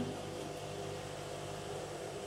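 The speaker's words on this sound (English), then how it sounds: "that sound is the washing machine" A washing machine runs with a steady low mechanical hum and a faint whirring drone, continuous nearby.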